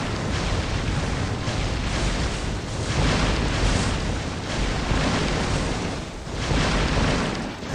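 Explosions hit enemies in Magic Survival, a game of dense, continuous booming bursts that roll and swell in waves for several seconds, loud and unbroken.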